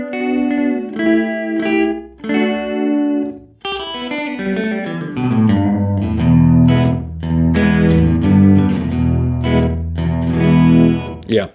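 A guitar played through a delay pedal set to slapback, with short single repeats trailing distorted chords and single notes, loud and close with a roomy, echoing tail.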